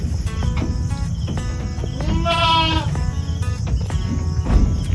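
A single wavering bleat from a goat rises briefly in the middle, heard over steady insect chirring and a dense rural background.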